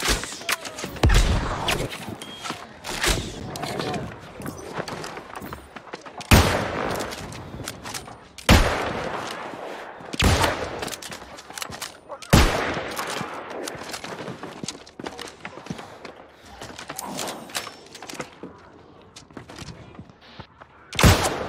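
Rapid bursts of heavy gunfire and booming cannon shots crack repeatedly at close range, loud and chaotic, during a battle in the game New World.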